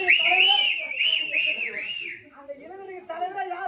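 Shrill whistling from the crowd at a Tamil stage comedy drama, rising and falling in repeated swoops, loud and near, with a voice speaking under and between the whistles.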